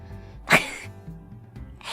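A voice imitating a sneeze gives one sharp, loud burst near the middle, with softer breathy sounds before and after it.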